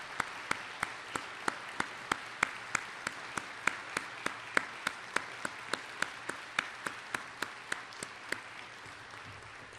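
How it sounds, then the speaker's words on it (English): Audience applause at a city attorney's farewell address, heard as a long run of evenly spaced sharp claps, steady and fairly faint, lasting throughout with no talk. "I'd like us all to give a round of applause to the City Attorney-elect."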